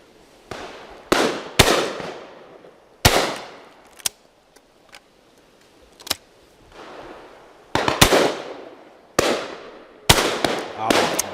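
Shotguns fire repeatedly at an outdoor game shoot, with loud sharp reports coming singly and in quick pairs, each one ringing out in a trailing echo, and quiet gaps between the volleys.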